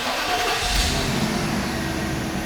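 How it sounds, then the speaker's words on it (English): A Mercedes-Benz AMG SL V8 engine turns over and catches into a steady, rumbling run, heard close from inside the cabin, loud and continuous. "we're inside the car, let's fire it up."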